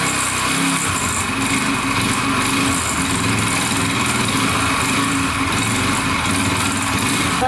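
Dirt bike engine running with a rattling top end and a failed rod bearing, a loud, close, continuous buzzing drone with a metallic clatter throughout.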